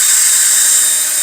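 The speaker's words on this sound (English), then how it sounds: "Now tilting it so it's drilling downward ever so slightly." Power drill boring into a piece of wood with the bit angled slightly downward, a steady high-pitched whine holding level and loud throughout with no pauses and no talking.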